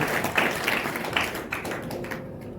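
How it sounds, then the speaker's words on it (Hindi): An audience bursts into clapping at an Enagic business team meeting, welcoming a new team member; a loose patter of claps rises and fades over a few seconds, fairly close and unbroken by speech. "तालियां होनी चाहिए संदीप के लिए"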